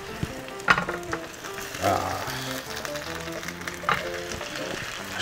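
Squid and green onion pancake frying slowly in an oiled pan, a steady soft sizzle running throughout, with a few brief scraping and stirring touches and a short word spoken over it.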